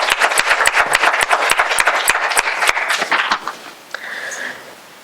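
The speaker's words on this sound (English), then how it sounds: "So just maybe a quick round of applause for our panelists tonight." A room full of people at a community panel discussion claps loudly for a few seconds, the applause thinning out and fading as a murmur of voices remains.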